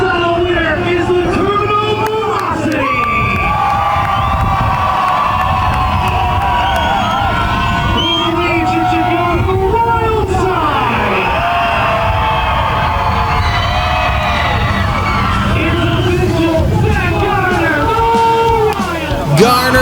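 A large crowd at a nighttime monster truck freestyle event at Lake Erie Speedway cheers, whoops and yells continuously, loud and close, with children's shouts in the mix.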